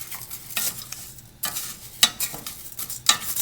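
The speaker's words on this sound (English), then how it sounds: "All we want to do is cover the rice with the oil. Let it get a little translucent." Rice sizzling in hot oil in a pan for pilaf, a steady crackling fry broken by a few louder bursts of stirring scrapes, close and alone without talk.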